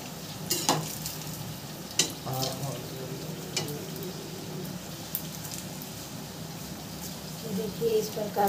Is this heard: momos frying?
yes